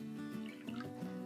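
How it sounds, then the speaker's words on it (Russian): Water poured into a container for mixing with varnish, a quiet pouring and trickling sound with gurgling pitch shifts, heard on its own. "Наливаем воду."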